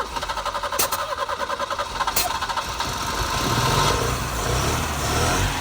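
A BMW E30 that sat unused for eight years, with the choke out, cranks with a quick rhythmic churn and then catches into a loud, rough idle up close, with voices around it.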